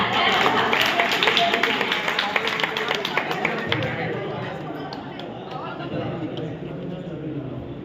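Students at a study centre speech gathering clap loudly in a dense burst of applause, which fades into quieter scattered claps and room murmur.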